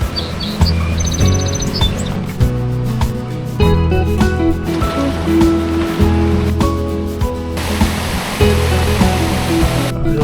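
Loud, steady roar of river rapids in a Canadian park fills the scene continuously, with birds chirping faintly through the noise.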